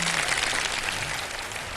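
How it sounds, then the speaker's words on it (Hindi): Applause from a studio audience opening a Ramadan television show, a steady wash of many hands clapping, sustained and even throughout. "बहुत सारी तालियां बजा दें तो आगाज करते हैं"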